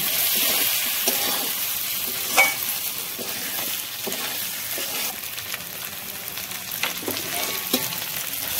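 Fried eggs and potatoes added to a pan of cooked spice paste, crackling with a loud, bright, steady sizzle close up, with faint stirring scrapes now and then.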